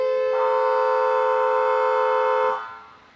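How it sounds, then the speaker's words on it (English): A single loud, steady siren tone from a UK emergency response vehicle holds for about two seconds, then cuts off abruptly, leaving a quiet background hum. "Whether the siren tones are activated or not"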